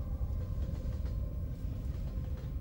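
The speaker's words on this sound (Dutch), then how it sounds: "En ergens ver weg hoorde ik een trein." A train rumbles at a distance with a steady low roll and faint clatter, heard alone at night near a bridge.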